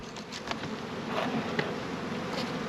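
Honeybees hum in a low, even drone from an opened hive box of early spring colonies, a close steady buzz with faint individual wingbeats passing through.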